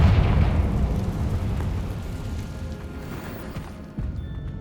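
Spell blasts in the Hogwarts Legacy game, a deep booming rumble that opens loud and decays slowly, followed by a second softer thump near the end, with no talking.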